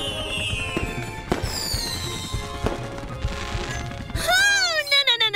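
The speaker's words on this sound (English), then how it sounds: "Never get too close to fireworks." Fireworks go off in a children's cartoon: crackling bursts and whistling, rising streaks over music, ending in a run of loud, close pops.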